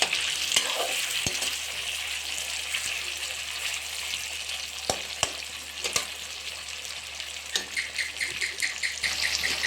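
Pumpkin pieces sizzle steadily in a little oil, with sharp clicks and scrapes from a stirring utensil scattered over the continuous hiss.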